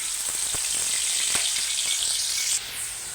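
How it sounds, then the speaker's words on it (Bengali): Onion paste frying in a pan for a wedding-style chicken roast, a steady bright sizzle with a few soft stirring knocks, the hiss dropping sharply near the end. "এখন আমি এখানে পেঁয়াজ বাটা দিয়ে রান্নাটা করব।"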